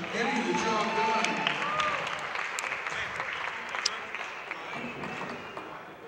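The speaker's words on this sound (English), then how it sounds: "A nice round of applause for Kiki and Mason picking up the trash tonight" Crowd applause at a youth basketball championship game at Los Alamitos High School, a moderate burst of clapping from a modest audience in a gym, mixed with voices and tapering off.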